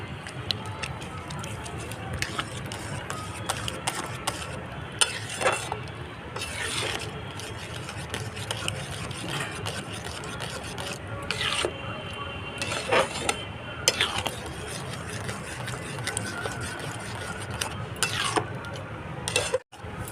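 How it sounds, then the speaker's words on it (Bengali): Semolina stirred and scraped in a pan for sooji barfi, a steady rubbing, scraping sound running throughout with occasional clinks of the spoon against the metal. "নিচে যেন লেগে না যায় এইভাবে নারিয়ে নারিয়ে তৈরি করব আমরা সুজিটা"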